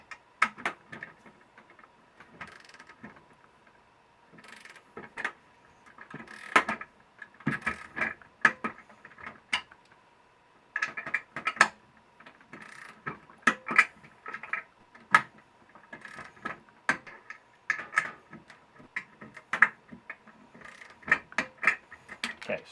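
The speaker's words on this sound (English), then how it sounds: "I just have my 1/4 inch drive 3/16 inch hex bit because I have a 1/4 inch drive torque wrench" Quarter-inch drive torque wrench with a 3/16 inch hex bit tightening standing seam roof anchor bolts, giving bursts of quick ratcheting clicks in irregular runs separated by short pauses, close and fairly quiet.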